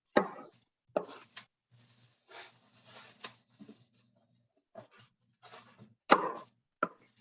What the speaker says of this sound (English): I'm definitely going to cut this one in half just because I want them smaller pieces